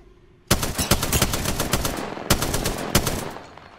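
Automatic gunfire in Apex Legends: a sudden burst of rapid, loud shots, a short pause, then another rattling burst that tapers off, with no talking.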